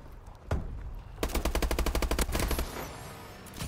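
Automatic weapon fire in the online shooter Call of Duty: Advanced Warfare, with one isolated shot followed by a rapid, evenly spaced burst of loud rounds over busy game ambience.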